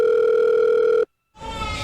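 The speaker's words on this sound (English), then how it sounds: "I'm picking up the phone. I'm calling Conor." A steady telephone dial tone hums loudly for about a second, cuts to silence, then a faint line noise returns.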